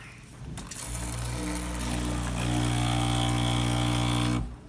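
Hot water runs from a Breville BES920XL espresso machine with a steady pump drone and a mechanical hum that starts abruptly, holds at an even level for several seconds, then stops.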